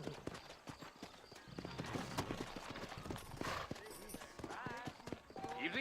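Horse galloping in Red Dead Redemption, with hoofbeats pounding close and steady as voices talk over the running.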